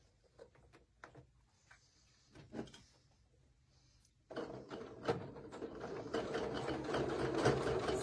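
A sewing machine stitches fabric for a Cathedral Windows quilt block, opening with scattered clicks and handling taps, then a steady rapid whir of the needle running from about four seconds on, growing louder.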